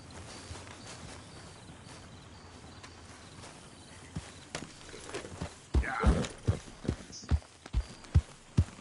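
Horse hooves clip-clop at a steady walking pace, starting faint and growing louder and closer over the second half, each hoof strike distinct over a soft background hum of insects.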